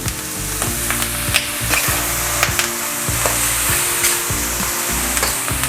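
Mushroom sisig made with king oyster and other mushrooms sizzles and fries steadily in a pan as soy sauce is added, with repeated stirring scrapes over a loud, continuous crackle and no talking.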